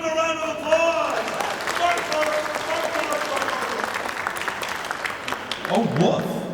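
Applause from the crowd at a charity auction rolls on steadily at moderate volume for several seconds, with a voice talking over the clapping near the end.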